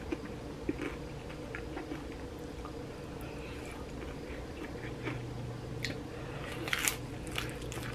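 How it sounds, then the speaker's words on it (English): Someone bites into and chews a crunchy tostada topped with jalapeño slices, with soft, close chewing and a louder burst of crisp crunches near the end. "It's the crunch for me."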